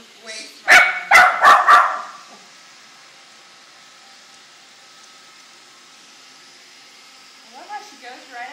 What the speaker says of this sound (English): she goes right up to it, barks at it, freaks herself out, and then comes back to us